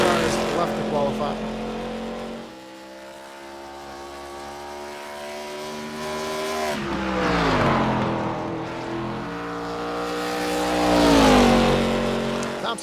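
ARCA race car engine on a track during qualifying, a loud sustained drone that rises and falls in pitch as the car powers through laps and passes close, with commentary over it.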